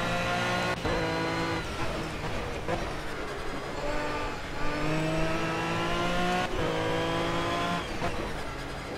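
Race car engines in Project CARS roar around the Nurburgring with a McLaren close behind. Several layered engine tones rise and fall with gear changes, loud and continuous, with brief hints of tire noise.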